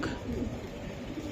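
A racing pigeon, held in hand by a fancier, gives a short, soft coo, faint and close against low background noise, with no talk over it.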